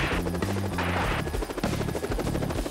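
A helicopter flies over mountain terrain, its rotor producing a loud, steady thudding beat with a rushing engine whine, close and continuous throughout.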